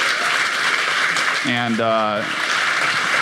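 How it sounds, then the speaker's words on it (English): Audience applause for the judges at the 2016 Hackaday Prize awards ceremony, a steady wash of clapping through the whole stretch, with a voice briefly speaking over it. "let's have a big round of applause for our judges who are here today"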